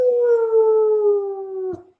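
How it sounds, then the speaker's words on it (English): Dogs howling indoors at home, one long sustained wavering howl with harmonics lasting nearly two seconds, close and fairly loud, ending abruptly with a short noisy bump and no talk over it. "I can't talk at home without the dogs talking too"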